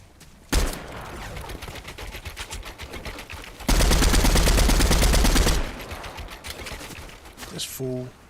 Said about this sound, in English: See, now he's shooting at me